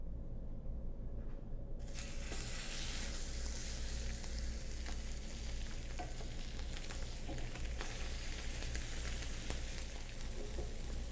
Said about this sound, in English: So now we're going to saute the pork chops on both sides.